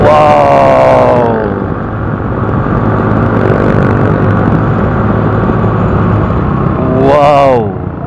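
A group of motorcycle riders passes on a cold mountain road in Tanay, Rizal, engines droning steadily with louder swells as bikes go by near the start and end, while voices exclaim over the noise.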